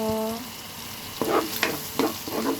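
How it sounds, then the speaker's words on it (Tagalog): Ingredients being sautéed in a pan for pancit bihon, a low sizzle with several sharp scrapes and clatters from stirring, after a brief tonal sound at the start. "Ayan, magigisa na tayo. Ayan, gisa-gisa na tayo."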